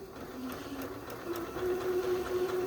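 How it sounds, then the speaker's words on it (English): Domestic sewing machine stitching a jelly roll race quilt, a steady close mechanical whir with rapid needle chatter that rises slightly in speed partway through, no talking. "So we're just going to sew for a little bit."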